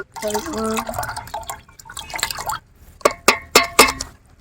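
Watermelon juice with sabja seeds is poured into a glass, with splashy liquid trickles and a few sharp drips. A voice talks over the first part before the pouring grows louder near the end.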